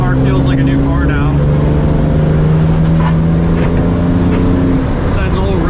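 A BMW E36 drives with its engine droning loudly and steadily inside the cabin, holding a low humming tone that shifts slightly in pitch, with faint talk in the background.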